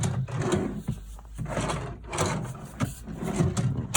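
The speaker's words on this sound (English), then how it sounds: "to close that back up, just lift it, pull it towards you, it drops down and it just slides straight back in" A fold-out table in a 2021 Elddis Avante 860 caravan is lifted, dropped and slid back into place, giving a series of close wooden knocks, thuds and sliding scrapes.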